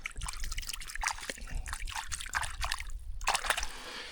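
A hand dips into clear, cold lake water in Scotland's Cairngorms, producing close, irregular trickles, small splashes and sloshing that come and go in short bursts.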